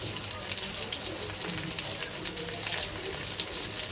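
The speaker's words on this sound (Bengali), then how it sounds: "তো মাছটা ভেজে নিচ্ছি" Rohu fish pieces, rubbed with turmeric, chili and salt, fry in hot oil with a dense, steady crackling sizzle that holds at an even level throughout.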